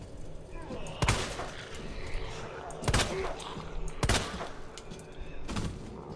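Handgun shots in Resident Evil 2, four sharp loud cracks spaced about a second or two apart over a bed of game noise and movement.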